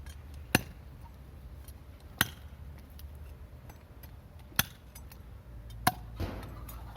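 Mora meat being cut with sharp chopping strokes to feed roosters, four or five isolated, distinct thwacks spaced a second or two apart over a low background rumble, no talking.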